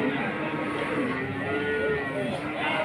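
Cattle moo in long, deep, droning calls at a livestock market, with the noise of a crowd around them.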